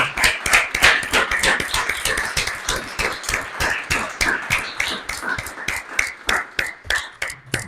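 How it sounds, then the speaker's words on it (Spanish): Indoor audience at a talk giving applause of thanks, steady rhythmic clapping from many hands, fairly close and continuous, with no voices over it. "Vamos a darle un aplauso"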